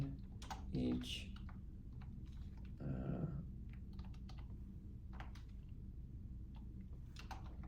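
Clicky computer keyboard typing, a steady stream of soft key taps close by at low level, with brief muffled voice sounds breaking in.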